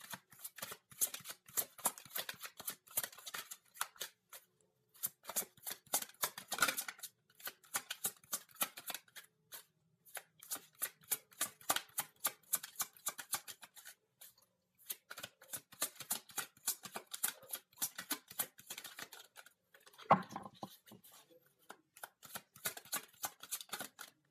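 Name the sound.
shuffling tarot cards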